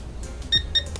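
A Syma X25 Pro drone beeps during calibration on a garden test: two short, sharp electronic beeps close by, clean and alone.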